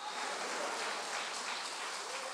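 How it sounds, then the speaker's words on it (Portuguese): A church congregation claps together for the Lord during a worship service, a dense, continuous burst of hand clapping filling the room without any voices rising above it. "As palmas para o Senhor"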